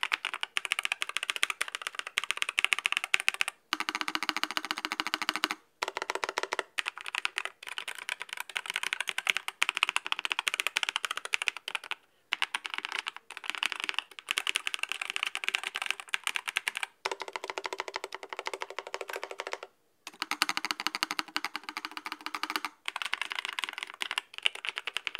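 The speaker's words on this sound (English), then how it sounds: "that's how the NuPhy keyboard sounds like" Continuous fast typing on a NuPhy Air75 mechanical keyboard, crisp clacky keystrokes close up, with a few brief pauses and no voices.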